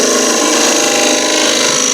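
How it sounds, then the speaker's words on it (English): A spindle gouge cuts into wood spinning on a lathe, giving a steady, loud, continuous shearing hiss with a motor drone beneath it. "I like to use a spindle gouge for that"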